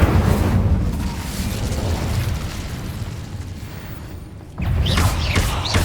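Incendio and Confringo spells in Hogwarts Legacy burst in a dense, continuous roar of booming blasts and crackling fire, loud and close, dipping briefly before another heavy burst near the end.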